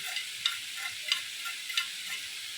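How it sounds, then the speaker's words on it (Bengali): Fried chicken pieces being stirred and mixed in a pan while cooking chicken cashew salad, a steady soft sizzle with a few light scraping clinks of the spatula at roughly even intervals, fairly quiet and with no talking. "চিকেনগুলো ভেজে দিয়ে ভালোভাবে মিশিয়ে নিচ্ছি"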